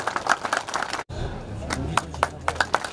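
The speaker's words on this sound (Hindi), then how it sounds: "ताली बजाते रहो।" A crowd at a BJP election rally claps in brisk, uneven bursts, broken by a short gap, with hand claps continuing under a faint background murmur.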